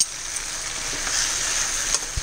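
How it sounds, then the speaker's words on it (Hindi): Thai rice noodles sizzle steadily in a hot pan while two spoons toss them, giving a bright, close, continuous hiss with faint clicks of spoon against pan. "तो इनको ऐसे अपने को टॉस करना है 2 स्पून से"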